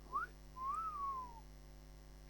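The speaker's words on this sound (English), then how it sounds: "I would whistle" Someone whistles a short two-part call, a quick rising chirp followed by a longer swooping note that rises and falls, faint and alone against a quiet room hum.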